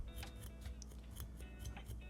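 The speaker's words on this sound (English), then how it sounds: "And then I'll take the scissors and just pick that out." Quick scissor snips picking out dubbing fibers on a fly-tying leech pattern, in an irregular series, close up and fairly soft, over a low steady hum.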